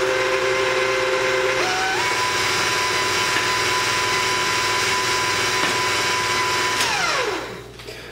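A KitchenAid stand mixer churns dry whole multi-grain bread mix with a loud, steady motor whine and whirring that shifts pitch partway through, then winds down and stops near the end.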